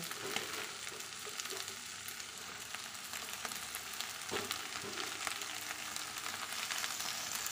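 Beans, potato, eggplant and spinach are stir-fried together in a pan, giving a faint, even sizzle with light scraping and soft clatter throughout. No one speaks.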